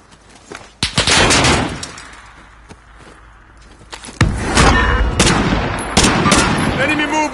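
Loud, close video game gunfire with rapid bursts and sharp single cracks, forming two dense stretches with a quieter gap between them.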